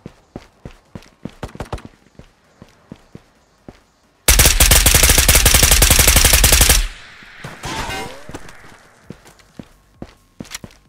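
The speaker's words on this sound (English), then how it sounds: "There's shots on top of a" H&K G36k rifle fire during a raid in a shooter game: scattered single shots and footsteps, then a long, loud sustained automatic burst, followed by more shots.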